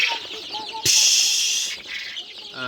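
Farm chickens in a poultry shed cluck and call nearby, with a short burst of rustling or flapping in the middle and more clucks trailing off.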